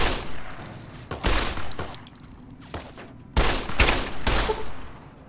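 Gunfire from the Fallout: New Vegas video game comes in loud bursts of several rapid shots, with quieter gaps between volleys and no talking.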